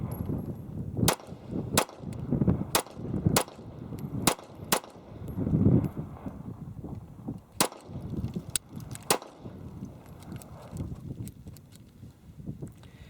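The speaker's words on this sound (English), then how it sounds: "let's run a few rounds through this and see if that front pin comes loose again." A SCCY CPX2 pistol, recently repaired, fires a series of sharp, loud gunshots at uneven intervals outdoors, with several shots in quick succession and gaps between, over steady background wind noise.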